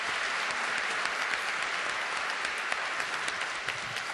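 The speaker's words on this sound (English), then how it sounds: "Another round of applause." An audience at a school event applauds steadily, a dense even patter of many hands clapping throughout, moderately distant and unbroken.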